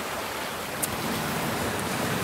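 Big ocean waves breaking on Calayo Beach, a continuous broad roar of surf at steady loudness, with no voices.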